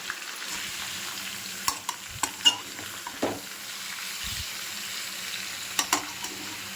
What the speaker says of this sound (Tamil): வெங்காயம் ஒரு 2 நிமிஷம் குக் ஆகட்டும்.